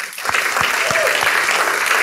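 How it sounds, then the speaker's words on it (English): Live event audience at the State of the Manosphere 2020 gathering breaks into dense, loud applause. It stays steady and full for the whole stretch, with scattered louder claps standing out. "please give yourself a round of applause"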